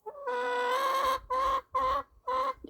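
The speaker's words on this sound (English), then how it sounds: "I don't know whether you're going to be able to hear me with the noise of this hen." A hen clucks loudly and close at feeding time in a zoo enclosure, giving a long drawn-out squawking call followed by three shorter bursts with brief gaps between them.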